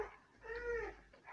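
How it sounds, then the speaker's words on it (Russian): Dogs whine faintly from an apartment stairwell, a soft rising-and-falling whimper heard at a distance in a quiet indoor room. "Опять собаки. Это в подъезде."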